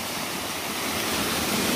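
A small waterfall pours over a quartz vein along a fault, making a steady, loud, broadband rushing of water that stays constant and close throughout.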